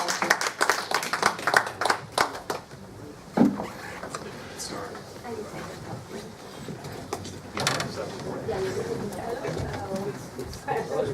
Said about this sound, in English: please give a last round of applause to our fantastic panel